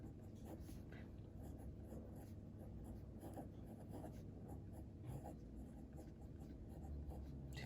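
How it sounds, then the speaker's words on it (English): A pen scratches steadily across paper as maths equations are written out by hand, a soft continuous scribble with small taps, close and quiet over faint room hum. "let me just write down what it looks like for this purpose"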